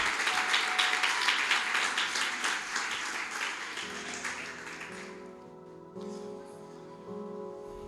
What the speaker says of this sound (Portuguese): Vamos receber a diaconisa Maximiliana com um aplauso bem forte, em nome de Jesus.